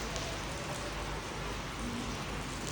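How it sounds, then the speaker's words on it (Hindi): Morning rain falls steadily on a remote mountain campsite in Pakistan, a dense, even hiss with no breaks and no voices. "अभी सुबह का टाइम है और बारिश शुरू हो गई है।"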